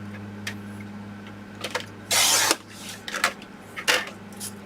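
Close workshop cutting sounds as strips are trimmed to size for a small box, with short scraping bursts, one longer loud rasping stroke in the middle and a few lighter scrapes after, over a low background hum.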